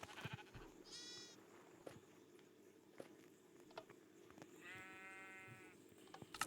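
Two distinct sheep bleats from the video game Minecraft, a short one near the start and a longer one later, each clear above a faint background of light taps and footsteps.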